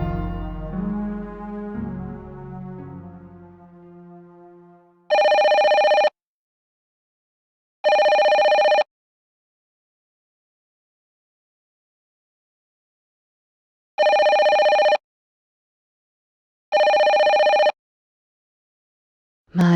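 Telephone in the video game Dark Hunter ringing in four loud, electronic bursts separated by silent gaps, following a stretch of soft background music.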